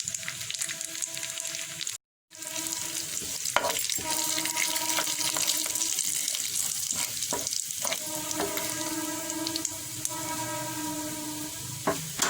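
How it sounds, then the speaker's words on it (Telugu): Mustard seeds and cumin fry in a hot pan for raw papaya pulusu, giving a steady, close sizzle dotted with sharp popping crackles, broken by a brief dropout near the start. "కొంచెం ఆవాలు, కొంచెం జీలకర్ర వేయించుకుందాం."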